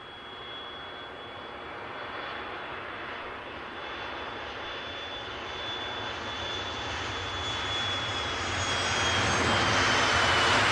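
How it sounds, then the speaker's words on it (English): Loganair airplane departing Aberdeen airport, its engine roar building steadily from a moderate drone to a louder, closer rush over about ten seconds, heard alone without talking. "we'll take that Loganair departure."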